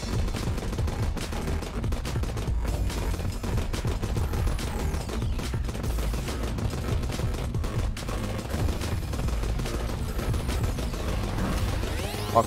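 Missiles and weapons fire in the video game Starward Rogue, a dense, continuous barrage of rapid electronic shots and bursts with occasional sweeping tones, loud and unbroken.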